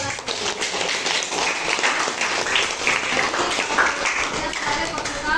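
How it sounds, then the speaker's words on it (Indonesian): Classroom applause for a student during a biology lesson, a group of pupils clapping loudly and unevenly at close range, with some voices mixed in. "tepuk tangan buat anak."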